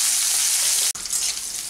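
Bitter gourd pieces frying in hot oil until lightly browned give a steady, close sizzle that cuts out abruptly for an instant near the middle, then resumes.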